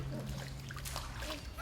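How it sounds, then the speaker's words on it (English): Water gently poured over a child's face during a swim class warm-up, a soft continuous splashing and trickling that runs for a moment, close by with faint voices in the background. "What we want to try to do when we're pouring this water is not come from a great height and plonk it straight on them."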